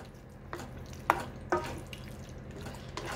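A spoon scrapes and clinks through taco filling for stuffed bell peppers, mixed with sour cream, giving a few soft, sharp knocks and wet scraping strokes against quiet kitchen background.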